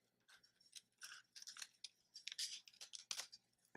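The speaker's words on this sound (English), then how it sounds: "So I'm just going to start cutting." Scissors cutting folded paper for a mandala, heard close up as quiet crisp snips and rustles. The cuts come in an irregular series of short bursts, with no talking.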